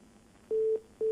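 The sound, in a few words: telephone busy tone after the call dropped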